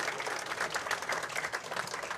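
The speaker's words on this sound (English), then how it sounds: "Let's give them a huge round of applause." Audience applause at a professional women's bowling tournament, a steady, dense patter of clapping at a moderate distance that continues without a break and has no voices over it.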